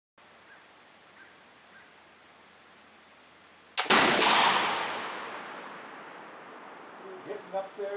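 A single loud flintlock rifle shot booms outdoors during Pennsylvania deer season, a sharp blast followed by a long fading rumble and echo, with faint noises near the end.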